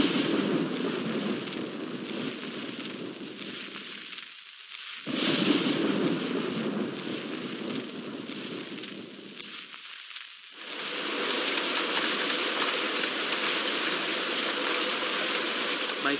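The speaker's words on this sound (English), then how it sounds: "a terrible storm began to rage, washing away the sound of my footsteps" A thunderstorm in the Nancy Drew game Secret of the Old Clock: steady heavy rain hisses continuously, broken by two rumbling thunder swells, with the downpour growing louder toward the end.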